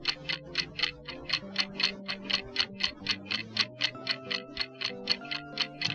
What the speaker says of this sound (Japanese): カチコチと時を刻む時計の音だけが、この広すぎる部屋に響き渡る